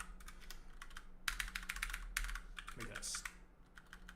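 Computer keyboard keys clatter in quick, irregular bursts while someone writes smart contract code, the close typing coming in clusters between pauses with a voice speaking briefly over it.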